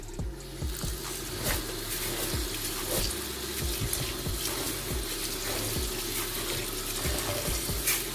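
Tap water running into a vessel to soak rice for chicken pulao in a home kitchen, a steady close splashing stream with irregular sloshing and gurgles, fairly quiet and continuous with no talking.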